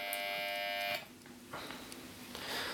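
Alarm buzzer of a Copal Model 227 flip clock sounding a steady, soft buzz for about a second, then fainter intermittent buzzing, quiet and close with no talk.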